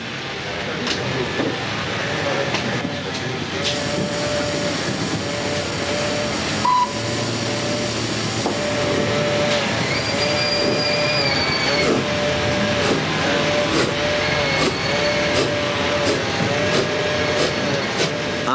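Mechanical whirring and soft clicking of a model railway turntable rotating inside a 24-track PLM-type roundhouse, continuous and close, with a voice narrating over it.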